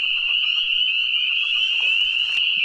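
Frogs croak and trill in a dense, continuous chorus beside trout fishing water at night, loud and close with a high, sustained pulsing tone.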